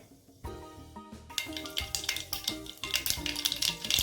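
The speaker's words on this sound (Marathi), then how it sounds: "आपली मोहरी आता मस्तपैकी तडतडली आहे" Mustard seeds splutter in hot oil in a pan, a run of sharp crackling pops that grows denser and louder over a few seconds, with metal clinks from the pan and no talking.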